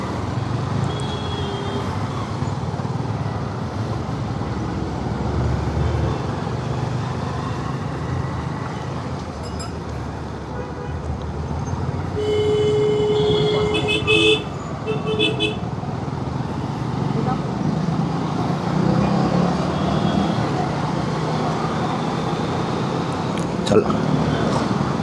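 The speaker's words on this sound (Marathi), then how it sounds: "ट्रॅफिक आज एवढी." Heavy Friday road traffic with cars and trucks rumbling steadily at close range, a few short horn honks sounding around the middle, while a voice talks over the noise.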